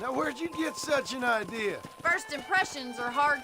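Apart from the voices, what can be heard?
None of the usual background noises is heard.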